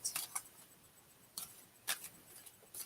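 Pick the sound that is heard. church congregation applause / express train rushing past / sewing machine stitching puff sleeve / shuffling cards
shuffling cards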